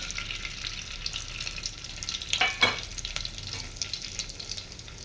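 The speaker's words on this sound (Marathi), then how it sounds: "तूप गरम झाल्यानंतर हे ड्रायफ्रूट्स घालून घेऊया" Dry fruits hit hot ghee in a pan for a poha kheer, giving a soft continuous sizzle that flares into a brief, louder crackle and stirring scrape midway before easing back down.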